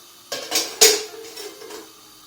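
Metal pot lid set onto a cooking pot at home, giving a few close clanks and rattles over about a second, with a faint hum left behind.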